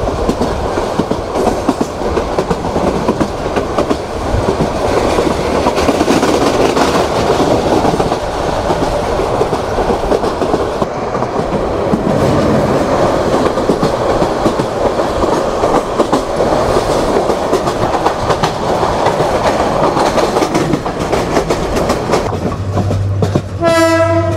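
The Mohanganj Express from Dhaka to Mohanganj rumbles loudly and continuously along the rails with a rattling roar, and a horn sounds at the very end.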